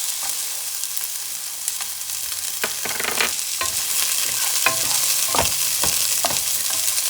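Onions sizzle and fry in rabbit grease for a stuffed pumpkin stew, a steady bright crackle that runs the whole time, broken by louder clinks and scrapes as a utensil stirs them in the pan.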